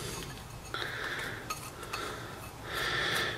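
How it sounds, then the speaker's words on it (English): A metal masher clinks and scrapes against a pot while potato is mashed with wild garlic leaf on a Trangia camping stove, several short bright scraping strokes, close and fairly quiet. "Mash it up."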